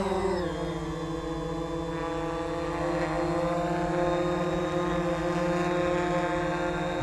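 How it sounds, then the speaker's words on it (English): Banyangtoys X21 quadcopter drone in flight, a loud steady close propeller whine with harmonic motor tones that shift slightly in pitch, continuous throughout. "So I'm going to give it a short flight"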